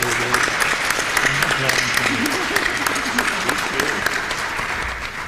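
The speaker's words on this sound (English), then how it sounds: "let's give a round of applause to our panelists" A conference audience gives panelists a sustained round of applause, steady clapping throughout with voices talking underneath.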